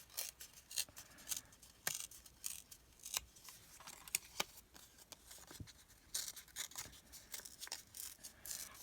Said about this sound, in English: I'm holding it with my left and tearing it with my right, and that gives me that edge